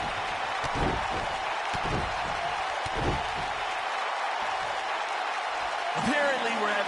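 Crowd noise fills a wrestling arena in WWE 2K, a steady wash of cheering with scattered clapping and thuds, while a voice talks over it.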